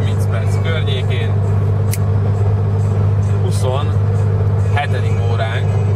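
Steady low engine and road drone inside a car on a long road trip, continuous and fairly loud throughout, with people talking over it.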